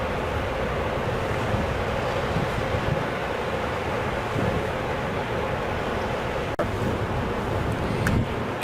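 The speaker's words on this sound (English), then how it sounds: "Check out these currents." Powerful river currents flow past turbine works in a dense, continuous rushing roar, steady and loud throughout with a little wind buffeting the microphone and no voices.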